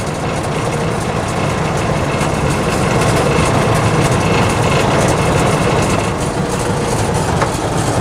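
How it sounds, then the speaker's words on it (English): A 1948 Willys Jeep CJ2A with its flathead engine runs steadily and loudly up close, a dense, continuous rumble with a constant mechanical drone and no talking over it. "I'm going to start the Jeep up. Hear it run."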